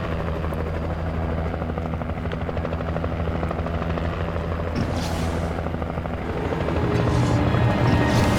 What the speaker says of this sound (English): Now it's me in a helicopter taking a walk.